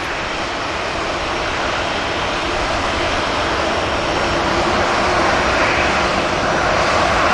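EasyJet and Ryanair jets taxi at Manchester Airport, their engines giving a loud, continuous jet roar that stays steady and even, swelling slightly toward the end.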